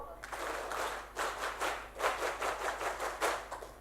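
A seated audience performs a scout clap in unison, a run of about a dozen sharp rhythmic claps in quick succession, moderately loud and close, with no talking over it.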